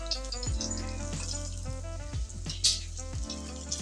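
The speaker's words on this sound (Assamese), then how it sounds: "আৰু পূৰা জোৰকা ঝটকা পূৰা মাৰি আছে তেলে। তেল বেছি উত্তেজিত হৈ গৈছে দেই তেল।" Bitter gourd frying in very hot oil, a steady loud crackling sizzle running throughout beneath background music.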